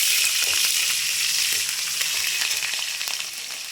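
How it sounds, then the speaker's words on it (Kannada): Green chillies fry in hot oil for avarekalu chitranna, a loud, close, steady sizzle with crackling spits that eases slightly toward the end, no talking. "ನೋಡಿ, ಇವಾಗ ಹಸಿಮೆಣ್ಸಿನ್ಕಾಯಿ ಹಾಕೋತಾ ಇದ್ದೀನಿ."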